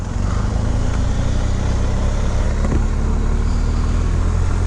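A 2022 BMW R1250 GSA Adventure Rallye motorcycle underway on a test ride, its boxer engine droning loud and steady beneath heavy wind rush, with no talking.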